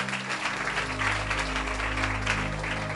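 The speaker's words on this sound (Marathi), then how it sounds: "जरा आपल्या मराठी भाषेसाठी जोरदार टाळ्या वाजवा." A church congregation at a Marathi sermon claps loudly and steadily for several seconds, a dense wash of applause over a low hum.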